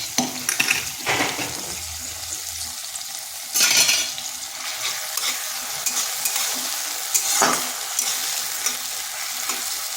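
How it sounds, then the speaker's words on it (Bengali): Onion sizzles in oil with panch phoron and a dried red chili in a karahi, a steady close frying hiss broken by several louder bursts of stirring and scraping against the pan, with no talking. "পেঁয়াজটাকে হালকা একটু ভেজে নিচ্ছি"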